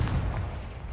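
A Confringo spell explodes in the Hogwarts Legacy video game, a single deep, booming blast with a rumbling low end that fills the whole moment.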